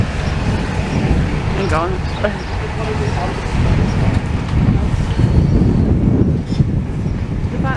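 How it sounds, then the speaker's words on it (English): Wind blowing at the demolition site of Blackpool Central Club: steady heavy low rumble of wind buffeting the microphone, with a brief spoken remark and faint distant sounds over it. "And the wind's just blowing."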